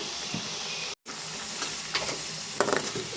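Fried onions with chilli powder and coriander powder being stirred in a pan for an Andhra-style small fish curry, a steady close sizzle with scraping spoon strokes and a brief break near the start.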